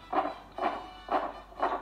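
A grade-school percussionist imitates marching men with four evenly spaced, thudding hits about half a second apart, steady like footsteps, with no talking.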